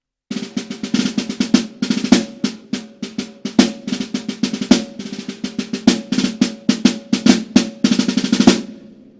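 A snare drum passage played with the frisé rudiment: rapid clustered strokes in quintuplet bursts and sharp flam accents, crisp and close, rolling on in bursts for several seconds before stopping.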